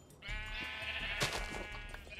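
Minecraft sheep in a Tekkit modded game lets out a single drawn-out bleat, close and clear, lasting most of the brief moment with a faint click partway through.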